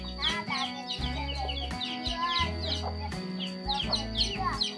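Chickens and many newly hatched chicks clucking and peeping close by on a farm, a busy overlapping chorus of sharp repeated chirps over lower hen clucks.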